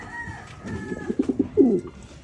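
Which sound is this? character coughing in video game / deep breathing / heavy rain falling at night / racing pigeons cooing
racing pigeons cooing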